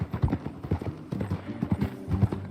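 Horse hooves clip-clop in a steady, rhythmic trot in the video game Red Dead Redemption 2, close and clear across the whole stretch, with faint background sound beneath.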